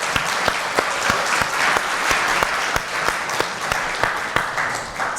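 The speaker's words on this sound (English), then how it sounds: "You deserve a round of applause." A lecture audience applauds Mike Lukens with a dense, sustained round of clapping, individual hand claps popping out at a quick rhythm throughout, fairly close and loud.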